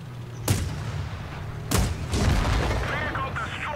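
In World of Tanks Blitz, a tank is destroyed near the flag with two sharp, loud booming blasts about a second apart, followed by rumbling debris and crackling.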